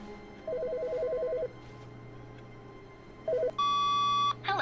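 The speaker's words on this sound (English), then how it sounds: "It's the first time the phone has rang." A telephone rings in The Stanley Parable video game: a steady electronic ring pattern plays, then after a pause it rings again and is followed by a higher, louder beeping tone, with no voices.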